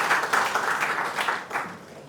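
Audience applause at an official ceremony, given for the German ambassador: steady clapping from a crowd, moderately loud and continuous, gradually thinning toward the end.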